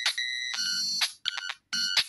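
Phone ringtone in a playground-style video game, a bright electronic ring repeating in three short bursts with brief gaps, moderately quiet and alone.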